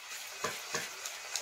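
A utensil stirs and scrapes egg yolks and sugar in a bowl, mixing three yolks together. Soft swishing runs throughout with several sharper scrapes at a brisk, uneven pace, close to the listener, with no voices.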